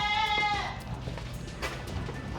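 A goat kid only a few weeks old gives one clear, wavering bleat up close on a Jamaican academy farm, followed by quieter farmyard background.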